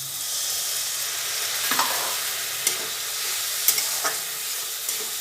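Masala frying in a pan sizzles steadily with water added, a continuous hiss broken by a few sharp clicks and scrapes of stirring, close and moderately loud with no voices.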